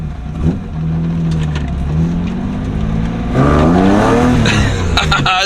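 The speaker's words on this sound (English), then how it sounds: "Tap the gas. Oh shit. Yeah, brakes are. But feel that throttle response." A straight-six car engine revs loudly under sharp throttle, climbing and falling in pitch with a few quick surges close by, and brief voices in between.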